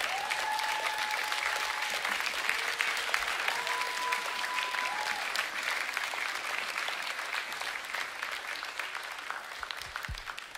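A congregation at a church service claps steadily throughout, a dense, moderately distant patter of many hands with a faint sustained tone drifting through the room.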